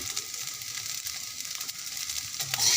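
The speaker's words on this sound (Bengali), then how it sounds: "এখন একটু নাড়িয়ে নেব আমাদের প্রায় পাস্তা কমপ্লিট" Pasta being stirred in a hot pan with turmeric, giving a steady close sizzle with faint scraping of the spoon throughout, no voices.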